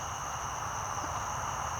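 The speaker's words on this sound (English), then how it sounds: "I don't know if you can hear the crickets and all of that singing." Crickets singing at a rural homestead on a Thursday evening, a steady high-pitched chorus with a constant low background hum, continuous and fairly distant.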